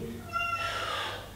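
A kitten gives one drawn-out, high meow at close range in a quiet room during a home workout, fading away after about a second.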